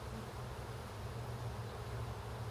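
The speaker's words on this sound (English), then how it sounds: "Those bees right there are pissed." Angry honeybees buzz at their hives during a fall oxalic acid treatment, a dense, continuous drone, close and steady, with no pauses.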